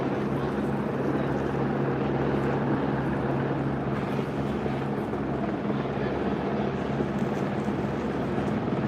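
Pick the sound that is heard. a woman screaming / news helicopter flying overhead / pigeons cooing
news helicopter flying overhead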